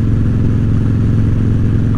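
Motorcycle riding along in the evening at sunset, its engine a steady, loud, close low rumble that continues without a break.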